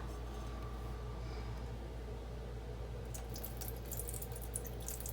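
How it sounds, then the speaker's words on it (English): Water is poured out of a pot of sticky rice, a soft continuous trickle and splash under a steady low hum, with a brighter burst of splashing near the end. "I'm going to empty out some water real quick"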